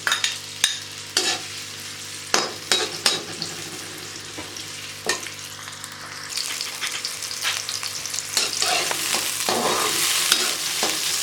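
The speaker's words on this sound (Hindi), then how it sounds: "हमने कढ़ाई में तेल डाल लिया और तेल हमारा गर्म हो चुका है। अब हम इसमें प्याज डालेंगे।" Chopped onions fry in hot oil in a kadai, a steady sizzle that swells and grows denser toward the end, broken early on by sharp scraping taps of a spatula stirring against the pan.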